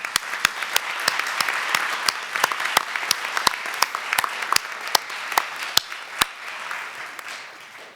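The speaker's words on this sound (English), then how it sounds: "You deserve another round of applause" Audience applause at a sonography program pinning ceremony, a steady wash of many hands clapping with a few sharp, louder claps standing out near the front, tapering off at the end.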